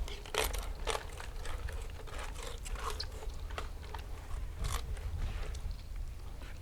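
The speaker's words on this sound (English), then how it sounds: "rotate and cut down along the spine, moving my hand to the other side of the blade" A knife slices through a salmon fillet along the spine, giving repeated wet, crunchy cuts and scrapes, close and fairly quiet, with no talking.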